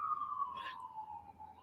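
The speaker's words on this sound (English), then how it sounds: "There's the sirens outside" An emergency siren wails outside, a steady distant tone slowly falling in pitch, faint against a quiet room with no one speaking.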